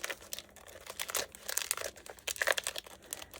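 Thick cellophane crinkles and crackles continuously as it is scrunched together to wrap a homemade Valentine gift, close and busy with dense rustling bursts.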